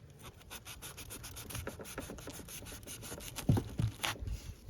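The saw blade of a Ganzo Firebird FSA01-YE camping axe saws and rubs through thick fibrous rope in quiet, rhythmic rasping strokes, with a few heavier scraping pulls near the end.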